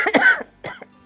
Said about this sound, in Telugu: ముసలిదానికి దగ్గుతుంది బాగా